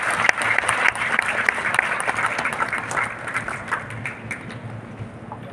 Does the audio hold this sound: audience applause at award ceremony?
yes